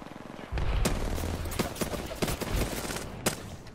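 Gunfire in Apex Legends, a rapid string of loud, close shots in uneven bursts after a quiet start, with a brief voice in the mix.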